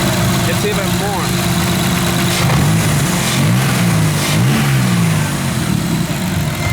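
A car engine with excessive blow-by idles, then revs a few times in short rises, loud and close, with someone talking over it.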